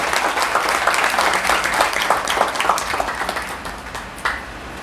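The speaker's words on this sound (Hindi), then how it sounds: "जोरदार तालियों के साथ स्वागत कीजिए" A crowd applauds steadily, with dense overlapping claps at fairly even loudness that taper slightly toward the end.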